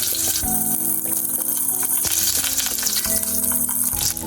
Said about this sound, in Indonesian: langsung saya masukkan serai, daun salam, daun jeruk, jahe ya, lengkuas ya teman-teman